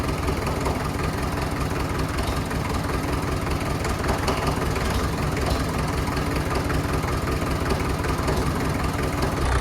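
A T20 35 tractor engine runs steadily close by, a constant low rumbling idle with a faint knocking rhythm throughout and no voices.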